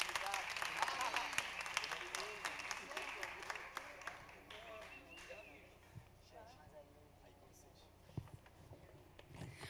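Audience applause after a talk, a crowd clapping that starts lively and thins out to a few scattered claps, with voices talking over it.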